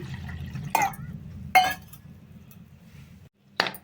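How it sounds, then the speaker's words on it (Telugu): Three short bursts of splashing water with faint clinks as toor dal is washed, spaced out over a steady low hum, no voices. "ఒక గ్లాస్ కందిపప్పు తీసుకున్నా, ఇది కడుక్కుందాం నీట్గా"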